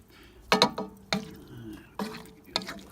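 Hot Italian sausages being stirred in sauce on a Pit Boss ceramic grill: four close, sharp scraping clinks at irregular intervals, each trailing into a softer wet shuffle over a quiet background.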